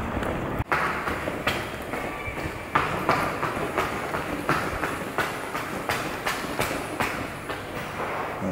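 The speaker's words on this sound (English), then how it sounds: "My train's coming real soon." A commuter train rolls in along a platform, its wheels beating a steady clickety-clack of rhythmic thumps over a rumbling, noisy background, loud and close with no talk.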